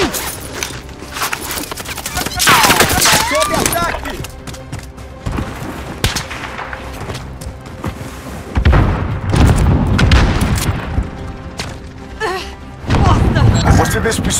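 Gunfire and heavy impacts in the video game Call of Duty Warzone on Rebirth Island, with loud bursts and booms coming in several waves, mixed with voices and game sounds throughout.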